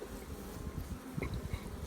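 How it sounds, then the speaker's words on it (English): Honeybees buzzing steadily around a crowded nuc hive in early spring, a close, continuous hum with a few louder passes by individual bees and no talk. "this is getting pretty full of bees"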